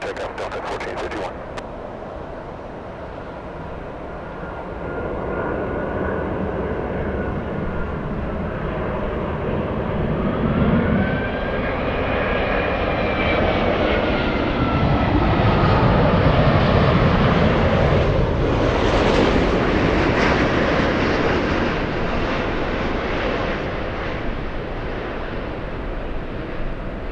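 A Lufthansa Boeing 747 airliner arriving at LAX roars in a long, steady engine rumble with a rising whine that swells toward the middle and lingers loud and close, mixed with wind and background noise.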